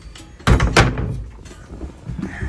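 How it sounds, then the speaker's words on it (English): A bathroom door on a Norfolk Broads hire boat is pushed shut, giving two quick close thuds followed by a quieter rattle as it settles. "Shut this door first."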